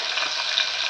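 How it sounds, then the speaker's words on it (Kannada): Fresh green peas frying in hot oil give a brief, close, steady crackling sizzle. "ಹಸಿ ಹಾಕಿದ್ರೆ ಚಟಪಟ ಚಟಪಟ."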